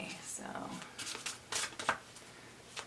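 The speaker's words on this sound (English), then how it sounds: "give a good shuffle." Quick bursts of cards being shuffled and riffled nearby, in short irregular flurries, with a voice speaking softly between them.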